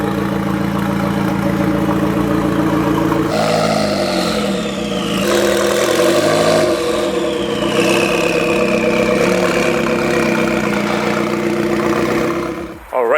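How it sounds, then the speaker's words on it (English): A Nissan GT-R with a stage 2 tune, its engine droning close and loud with rising and falling revs, sustained through the whole stretch. "Actually testing out the GT-R with a stage 2 tune,"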